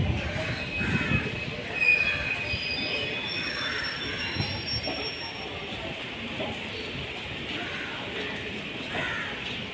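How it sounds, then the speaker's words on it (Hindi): A train at Calicut railway station in Kerala: loud, sustained wheel squeal and rail noise rolling on continuously, with crows cawing faintly and low voices in the background. "Calicut station train number"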